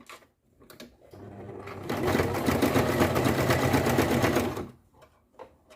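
A domestic sewing machine stitches fabric while the material is fed through, running steadily and loudly for about three seconds, with short mechanical clicks and handling sounds before and after.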